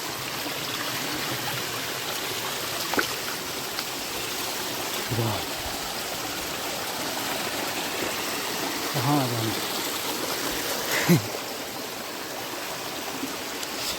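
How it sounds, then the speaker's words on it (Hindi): A forest stream rushes steadily on a jungle climb near a hidden waterfall, a continuous broad wash of water noise with someone speaking briefly over it. "झरना इधर से गिरता, मैं वहीं जा रहा हूँ उस झरने के पास"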